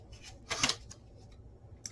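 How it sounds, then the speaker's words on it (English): Tarot cards being shuffled by hand in a quiet room: a few soft papery riffles and snaps, one brief louder burst of flicking followed by faint scattered clicks. "Let's get to shuffling."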